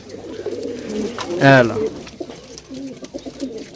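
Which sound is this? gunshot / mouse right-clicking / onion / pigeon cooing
pigeon cooing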